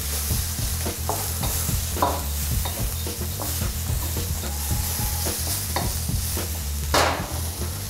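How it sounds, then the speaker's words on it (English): Onions or shallots sauté quickly in oil with garlic and ginger for Chettinad shrimp, a continuous close sizzle broken by rhythmic scraping stirs and occasional metallic knocks against the pan. "onions or shallots in there. And we're just going to saute these quickly."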